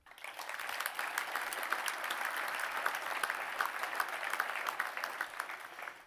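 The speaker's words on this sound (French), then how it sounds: "Et on peut l'applaudir." An audience applauds at mayor Christophe Hogard's New Year address, with dense, steady clapping from a crowd that holds at an even loudness for about six seconds before tapering at the end.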